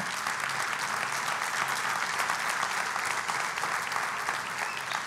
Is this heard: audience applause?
yes